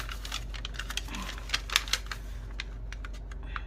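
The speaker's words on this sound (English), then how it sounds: "Love the sound of the paper, the crinkly sound." Paper crinkles and snaps in quick irregular clicks while it is folded into a concertina for a journal, close and crisp, with a couple of louder crackles near the middle.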